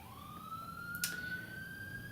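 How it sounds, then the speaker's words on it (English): Faint siren from an emergency vehicle outside, a single rising wail sustained in the distance with a brief higher burst midway, heard through a quiet room. "And I apologize for the sirens if you hear those."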